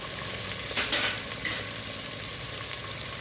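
Masala of ginger, coriander and garlic paste with chilli powder is sautéed for mutton curry, giving a steady, close sizzle with a few soft stirring scrapes.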